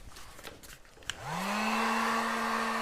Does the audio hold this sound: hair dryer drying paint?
yes